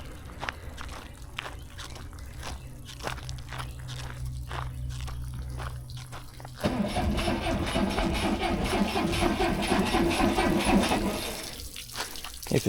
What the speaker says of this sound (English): we're gonna start the first engine and see how that one goes